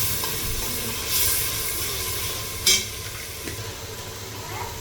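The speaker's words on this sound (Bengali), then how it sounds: "এই তো মশলাটা কষিয়ে নিলাম" Spice paste of ground coriander and cumin sautéing in a pot for biryani, a soft continuous sizzle broken by a few scraping stirs and one sharp clink of the spoon partway through.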